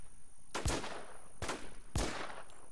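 Three loud gunshots in the online survival shooter WarZ fire in quick, uneven succession, each a sharp crack with a short decaying tail, over a steady low game background.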